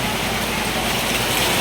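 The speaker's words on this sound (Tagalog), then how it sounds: "malakas na naman po ang ulan" Heavy rain from a typhoon pours down at a terminal in a dense, constant roar with no pauses, loud and close.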